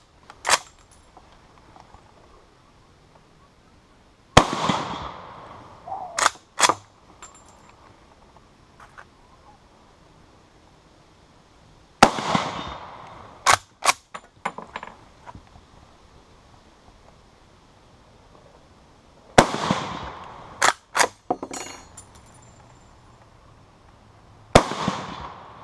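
An Austrian Steyr M95 infantry long rifle fires single loud, sharp shots spaced several seconds apart, each followed by the clack of the straight-pull bolt cycling, with quiet between shots.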